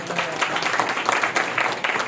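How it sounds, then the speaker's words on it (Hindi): Loud applause from an audience at a motivational seminar, honoring an attendee named Mahesh; a brief, steady burst of many hands clapping with no pauses. "महेश के लिए जोरदार तालियां"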